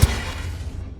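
A Confringo fire spell hits in Hogwarts Legacy, a single loud burst with a deep thud and crackle that fades quickly over about a second.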